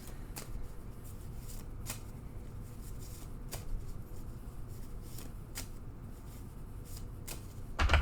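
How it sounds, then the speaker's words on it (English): Rider-Waite-Smith tarot cards are shuffled by hand, giving a quiet, continuous papery riffle with periodic crisp snaps, close and soft, with no one talking. "Spirit says shuffle a little bit first."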